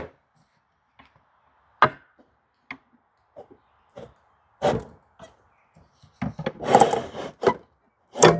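A saw cuts diagonally through a wooden board for the bracing of a firewood shed, heard as a few scattered rasping strokes that build into a denser, louder run of cutting near the end, with no talking.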